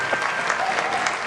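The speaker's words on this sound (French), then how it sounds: "Oh, on applaudit son Pépé, s'il vous plaît." A burst of steady clapping from a small group, close and continuous, with faint voices mixed in.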